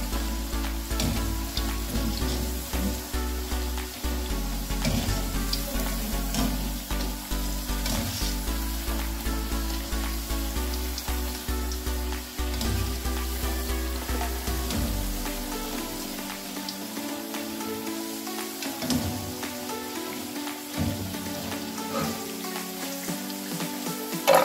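Potato bhajia frying in hot oil make a dense, continuous close sizzle, like crackling rain on a surface, with occasional soft stirring knocks, fading somewhat toward the end.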